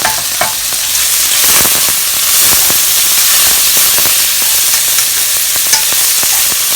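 Marinated pork and chopped garlic sizzle loudly in hot oil in a pan, a dense steady frying hiss with scattered crackles and pops throughout, no talking.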